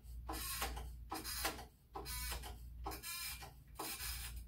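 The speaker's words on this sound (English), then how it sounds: "we have one that I actually have to crank. So we crank it up to where we get over the casket" A hand-cranked casket lift at a small funeral home is wound upward, producing faint, rhythmic mechanical ratcheting in about five even bursts, close by, with no talking.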